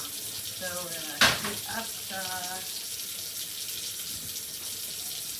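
A kitchen tap runs steadily while hands are rinsed under it, a constant close hiss of water beneath a man's speech, with a brief sharp clatter near the start.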